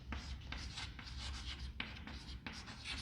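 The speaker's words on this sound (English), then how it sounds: "Okay, I am writing here" A pen scratches across paper in steady, close strokes with brief pauses between lines, written by hand during a geography lesson.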